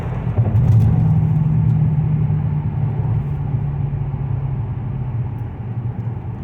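Supercharged 2003 Infiniti Q45 Premium driving under gentle throttle, a steady close low engine and road rumble with a faint rattle from the car, no voices.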